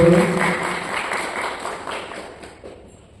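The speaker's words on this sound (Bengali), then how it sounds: "আপনারা সকলে করতালির মাধ্যমে অনুষ্ঠানটিকে সাফল্য" Audience clapping at an office retirement ceremony, a steady patter of many hands in a room that starts fairly loud and gradually thins out, with no talk over it.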